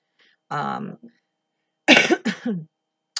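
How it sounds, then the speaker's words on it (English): A couple of short, harsh coughs or throat-clearing bursts close to the mic from a person with pneumonia, separated by brief silences, with a tiny click at the end. "I might cough."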